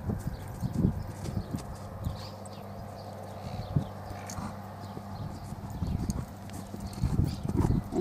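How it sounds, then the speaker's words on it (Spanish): Hoofbeats of a young chestnut crossbred quarter horse at an easy, light-reined gallop, a steady rhythmic clip-clop close by with a brief whinny, no talk over it. "Galope cómodo, de rienda livianita,"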